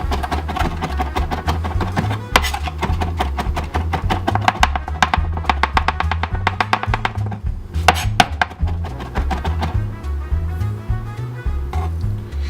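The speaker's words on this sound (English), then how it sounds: "mince up some cilantro" A knife minces fresh cilantro on a board in quick, rhythmic taps, sometimes bursting into faster runs, heard up close over steady background music.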